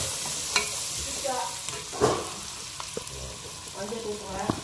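Ingredients for pancit bihon and canton, seasoned with black pepper, sauté in a pan with a steady close sizzle, broken by a few sharper scrapes and clacks of stirring.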